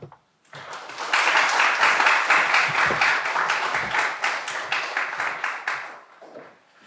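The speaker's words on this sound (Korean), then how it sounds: "정석원 목사님 나오실 때 박수로 환영해 주시면 감사하겠습니다." A church congregation claps to welcome Pastor Jeong Seok-won to the pulpit at a teacher-led Sunday service, dense applause rising quickly, holding steady for several seconds, then fading out.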